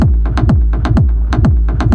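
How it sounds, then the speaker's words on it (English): A heavily distorted electronic bass line built from a delayed kick drum tail and processed with iZotope Trash, pulsing in a fast, repeating, loud gritty rhythm with sharp transient hits and no voices. "I've made a bass line out of it with adding Izotope trash and distorting it"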